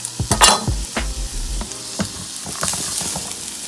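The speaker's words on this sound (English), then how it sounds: "Oil's on. Garlic ginger mix in." A garlic and ginger mix hitting hot oil in a pan preheated to medium-high, giving a soft sizzle with scattered clinks and scraping stirs of a utensil against the pan.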